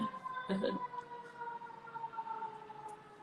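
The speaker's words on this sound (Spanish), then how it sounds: "Se está pasando una sirena." An ambulance siren passing by at a distance, a faint sustained wailing tone drifting slightly in pitch over several seconds, heard under a nearby voice speaking Spanish.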